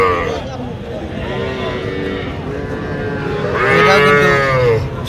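A young Sahiwal bull at a cattle market lows repeatedly and loudly at close range, with a longer, stronger moo near the end, over a background of market noise.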